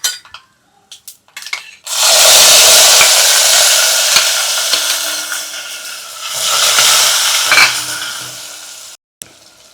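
Garlic drops into hot oil in a pan for vatha kulambu and bursts into loud, close sizzling and frying, with a few utensil clinks and a brief lull before the hiss swells again, with no talking.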